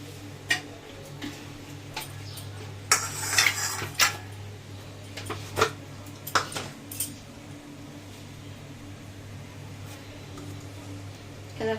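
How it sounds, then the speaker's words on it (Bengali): A spoon scrapes and clinks against a dish while food with aubergine is mixed and cumin powder is added, irregular metallic taps with a busier flurry early on over a steady low background hum. "ভালো করে মেখে নেব এর মধ্যে একটু জিরের গুঁড়ো দেবো"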